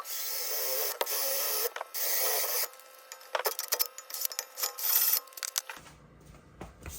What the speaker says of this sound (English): I'm gonna drill a little pilot hole first.